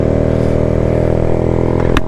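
A Honda Grom motorcycle engine running while riding, a loud, close, steady mid-pitched drone holding one speed, with a brief sharp noise near the end.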